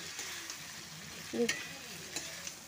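Crab frying and being stirred in a pan, a faint steady sizzle with soft spoon scrapes and a brief clink near the middle, close and quiet with no talking.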